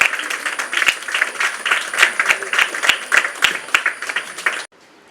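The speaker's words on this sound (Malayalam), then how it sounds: "എല്ലാം കൈയടിച്ച്" An audience at a high school's opening-day ceremony claps in a steady, dense burst of applause for several seconds, then it stops abruptly.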